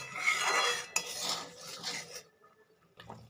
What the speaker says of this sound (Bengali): এবার ভালো করে ঝোলের সাথে মিশিয়ে নেবো গোলমরিচ গুঁড়োটাকে